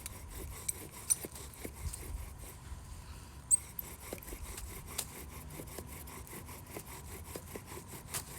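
A wooden bow drill spindle rubbing and burning into a wooden board during fire-starting without a lighter, a steady rasping friction with regular back-and-forth strokes, close and moderately quiet, no talking.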